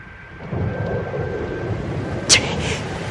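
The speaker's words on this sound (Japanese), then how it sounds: "なんだ、雷か。" Thunder rumbles low and continuously as rain starts in a radio drama scene, a steady dull roar with a brief sharp crack near the end.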